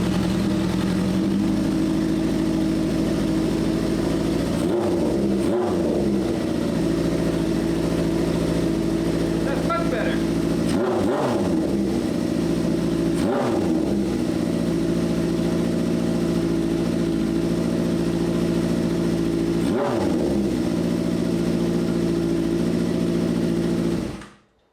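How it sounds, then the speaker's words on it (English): Vintage scrambler motorcycle built from a scrap bike, its engine idling steadily with several sharp revs off idle spaced through the run, each snapping up and quickly dropping back to a smooth, close, continuous idle. "a quick snap of rev off idle, and then for it to come back down to a smooth idle"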